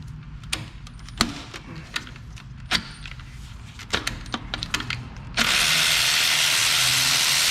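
Wrench and ratchet work on a starter bolt of a Ford 5.4 engine, giving sharp metallic clicks and knocks at irregular intervals, then a steady loud broadband rush that takes over near the end.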